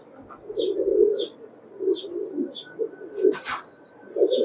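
Pakistani Highflyer pigeons coo repeatedly in soft low bursts, with high chirps and tweets from smaller birds mixed in nearby.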